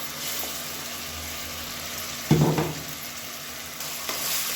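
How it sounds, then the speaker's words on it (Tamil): Onions sauté in a pan with ginger-garlic paste for a potato and soya chunk kulambu, giving a loud, continuous sizzle with one stronger burst of frying and stirring midway. "இப்போ இந்த வெங்காயத்தோட பச்சை வாசனை போகிற அளவுக்கு வதக்கி விட்டுக்கலாம்."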